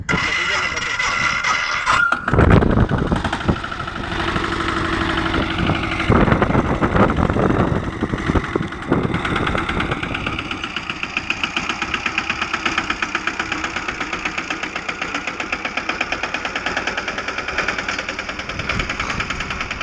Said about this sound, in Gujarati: જોઈએ મિત્રો ટ્રેક્ટર પાછળ ત્રણ હાથી કેવી રીતે હાલે છે